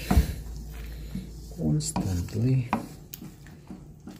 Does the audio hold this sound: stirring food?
yes